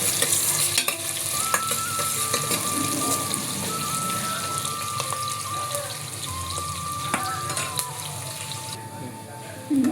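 Two onions sizzle loudly in hot oil in a home kitchen pan, with a dense, continuous crackling hiss and scraping stirring strokes throughout, ending in a brief clatter; no one speaks.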